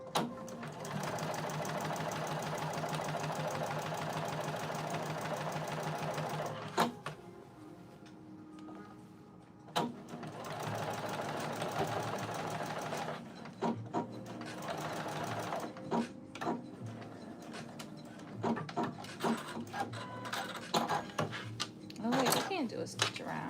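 Sewing machine running a stitch around a Laforme 0303 work-in-progress piece, a steady mechanical whir in several long runs broken by short pauses and ticks, close and fairly loud, with speech occurring in the background.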